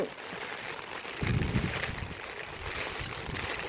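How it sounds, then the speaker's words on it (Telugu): Steady broadband rushing of heavy rain with wind gusts from Cyclone Montha in Mancherial, loud and continuous, swelling briefly stronger partway through. "వర్షం చూడండి ఎలా కురుస్తుందో"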